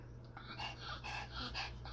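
A female dog whimpering and whining in short, repeated breathy bursts, close by over a steady low hum.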